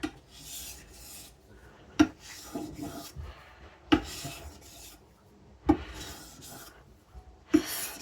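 A custom knife is stroked along a sharpening stone in long, steady raspy passes, each ending in a sharp click as the blade lifts, repeated four times at an even rhythm, close up and with no voices.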